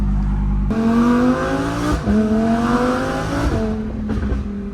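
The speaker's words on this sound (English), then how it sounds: "Listen to that fucking V10." A loud, high-revving, straight-piped Lamborghini Huracan EVO V10 engine climbs through its gears, pitch rising and dropping with each shift, sustained throughout with no talking.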